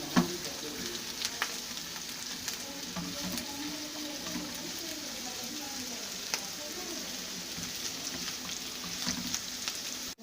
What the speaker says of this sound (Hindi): दो से 3 मिनट तक हम इसको कुक करेंगे, यानी फ्राई करेंगे।